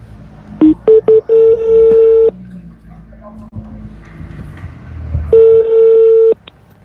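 Telephone keypad dialing tones: a quick run of short beeps leads into a longer sustained tone, then a second long tone follows after a quieter gap with faint background noise.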